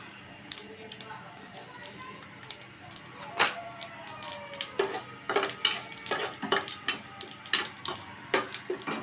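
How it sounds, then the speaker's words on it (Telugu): Mustard seeds and black gram sizzle in hot oil in a pan for an ivy gourd onion dish, with scattered sharp pops and clinks of a utensil against the pan over a faint crackling background. "మినప్పప్పు ఇప్పుడు పోపు సరుకులు వేగుతున్నాయండి"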